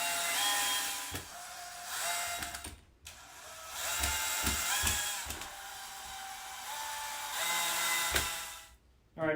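A power driver runs in repeated whining bursts as screws are driven into a three-layer 15-inch chick grow-out pen during assembly, each burst close and loud with short pauses between.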